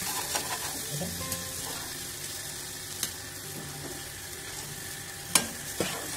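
Tomato and green chili puree frying in a pan for a Bombay duck curry, stirred steadily, giving a close, constant sizzle with occasional scrapes and clinks of the spoon against the pan.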